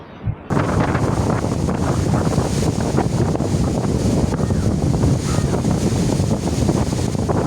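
Strong, continuous wind roars across the microphone at the seashore in Mathagal with a steady, heavy rumble, joined by the wash of surf, loud and unbroken after a brief quieter start.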